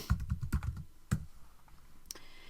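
Rapid keystrokes on a Chromebook keyboard typing a short folder name, a quick burst of taps followed by a couple of isolated key presses, close and clear with no voices.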